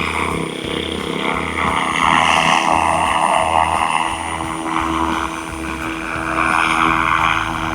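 A Bell 47 scale RC model helicopter (RAW420) flies with GPS control, producing a loud, continuous rotor and motor drone with a steady buzzing whine that swells slightly, close by and without speech.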